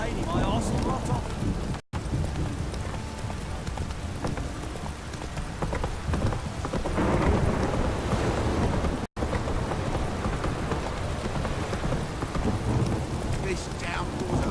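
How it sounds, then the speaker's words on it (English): Steady heavy rain pours down in a downpour within The Witcher 3, with rumbling thunder and a dense, continuous wash of noise; a voice speaks briefly over the storm. "This downpour's a bastard, it is."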